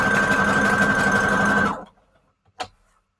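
A sewing machine runs a zigzag stitch on paper strips for journal tuck spots, humming steadily and loudly up close for about a second and a half before stopping, followed by a single small click.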